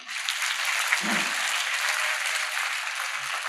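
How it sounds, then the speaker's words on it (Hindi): An audience at a school event in Sri Ganganagar applauds, a dense, steady wash of clapping that fills the whole stretch without a break, loud and close. "तालियां बजाइए"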